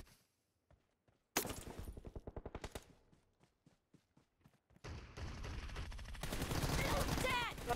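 An Uzi submachine gun fires in PUBG Mobile, first as a sharp rapid burst of close shots, then as scattered single shots, followed by louder sustained firing mixed with game noise.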